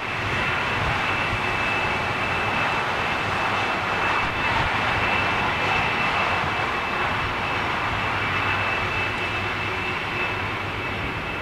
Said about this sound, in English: Gulf Air's Dreamliner landing 27 left.